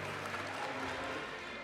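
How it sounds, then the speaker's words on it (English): A crowd applauds at a Pokémon UNITE esports championship in Europe, a dense, steady wash of clapping filling a large hall and continuing throughout. "Let's give it up one more time for CACM."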